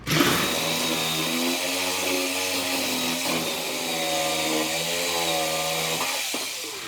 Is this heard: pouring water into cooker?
no